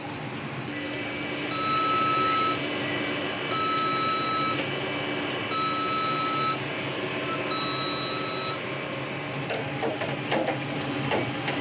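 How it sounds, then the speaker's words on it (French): Constant electronic beeps from fast-food kitchen appliances in a McDonald's, short steady tones repeating at regular intervals over a busy kitchen hum, with a clatter of activity near the end. "auquel s'ajoutent des bips permanents. Chaque appareil a son propre son, et chaque son donne un ordre aux équipiers."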